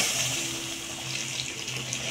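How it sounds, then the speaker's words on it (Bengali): Water pours steadily into a pot for egg pulao, a continuous close gushing splash without pauses. "আমার যেটুকু লাগবে পরিমাণ মতো আমি জলটা দিয়ে দেবো।"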